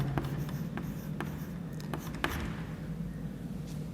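A pen or pencil scratches across paper in short strokes with a few sharper taps, close and quiet, over a faint steady background.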